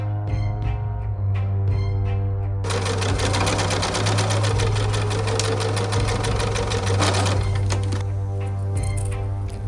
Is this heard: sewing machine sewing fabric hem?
yes